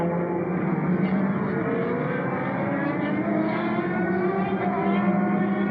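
A sportscar engine drones steadily during a 2001 FIA Sportscar Championship race at Donington, as a car heads down the pit lane. The tone holds in an even, buzzy pitch throughout and sounds close and continuous.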